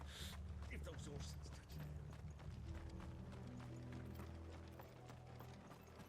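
Horses gallop in the Final Fantasy XVI video game, a rhythmic clatter of hooves mixed with mechanical game sounds, partly under a talking voice.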